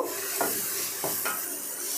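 Vegetables frying in a pan with salt give a steady soft sizzle, broken by a few quick scraping stir strokes close by.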